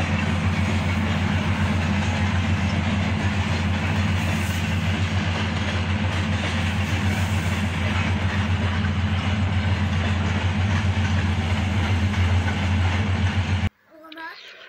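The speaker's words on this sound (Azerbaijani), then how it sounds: "Qatar çəkməyəndə çox darıxıram qatar səsi üçün." A train rumbles past nearby with a loud, steady clatter for several seconds before the sound cuts off abruptly.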